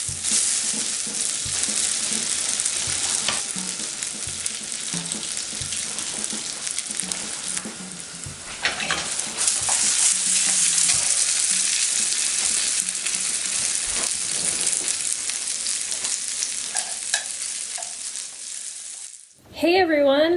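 Boiled pierogies sizzle and crackle steadily in a hot frying pan, a loud, continuous hiss with occasional stirring clatter, ending abruptly with a brief voice.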